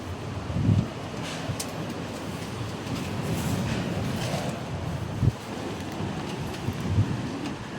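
Strong wind gusts and buffets steadily around a small boat at sea, a loud broadband roar with a few thumps, and no talking.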